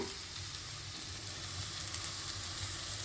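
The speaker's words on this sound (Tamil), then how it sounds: "இப்போ கொஞ்சம் இந்த எண்ணெய் நெய்யில் வதக்கின்றோம்" Ground coconut and sesame paste sautéing in oil and ghee for bagara rice, giving a steady soft sizzle and hiss with a faint stirring scrape, close and even throughout.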